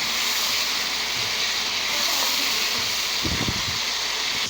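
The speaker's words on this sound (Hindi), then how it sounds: "पानी उबल चुका है" Water boiling in a cooking pot with garlic-ginger paste and chicken for Karachi-style chicken biryani, a steady close hiss with a few bubbling pops near the end, no talking.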